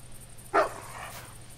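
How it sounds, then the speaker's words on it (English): A hunting dog in theHunter 2015 barks once, sharp and fairly close, against a quiet outdoor background, followed by a fainter trailing sound. "He's barking at rocks."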